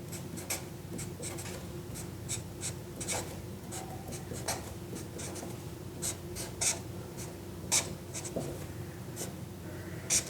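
A pen scratches across paper as an organic chemistry mechanism for an azide-alkyne click reaction is drawn by hand, with soft, irregular strokes and taps coming close and steady under a quiet room hum, with no talking.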